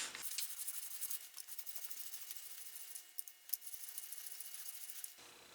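An HSS shaper cutter face is honed on a sharpening stone with a soft, continuous gritty rubbing of back-and-forth strokes, close and quiet, then stopping near the end.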